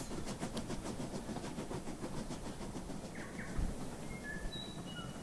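Train cars roll along track in the Rolling Line model railway game, a faint steady rumble with soft rhythmic clicking, a few brief high chirps appearing toward the end.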